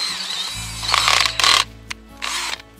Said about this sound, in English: I'm gonna go ahead and take my drill and my auger, and I'm just gonna make a little hole